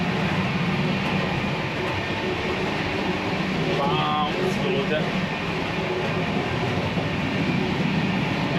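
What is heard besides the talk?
Indian train running, heard from inside the train toilet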